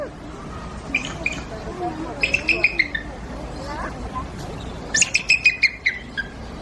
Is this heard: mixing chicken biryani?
no